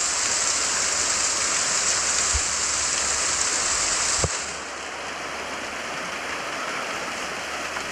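A waterfall near Manthoka and Shigar in Skardu rushes in a constant bright roar of falling water, close and loud, with a single knock partway through before it carries on a little softer.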